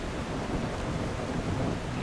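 Steady rain with rumbling thunder in a video game, a dense continuous wash that stays even and unbroken throughout, with no voices over it.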